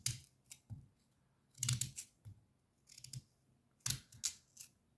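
A knife cuts hard sweet potatoes into small pieces, making a series of sharp, close chopping and crunching strokes in irregular bursts with quiet gaps between, and no voices.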